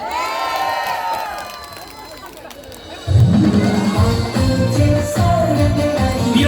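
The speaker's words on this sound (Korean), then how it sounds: "박수 많이 주세요" At a Daegu Gyodong Market community festival, an outdoor crowd cheers and shouts before a live song, a hubbub of voices that swells suddenly louder partway through.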